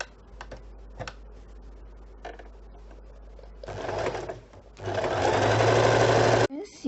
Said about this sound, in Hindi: तो इसे हम अब स्टिचिंग करने वाले हैं